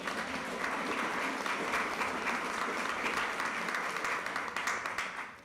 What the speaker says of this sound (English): You can applaud now if you'd like.